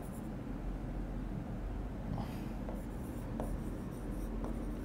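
A marker or chalk scratches across a board during a Bangla class, faint strokes and taps over a steady room hum, with short pauses between bursts of writing.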